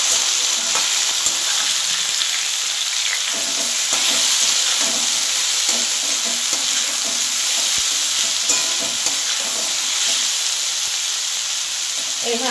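Onions frying and stirred in a pan for a googly aloo posto, a loud, dense, unbroken sizzle with faint intermittent scraping from stirring.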